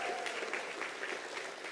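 An audience at a student literature conference applauds a poet, a brief burst of dense clapping from many hands that holds steady and fills the room.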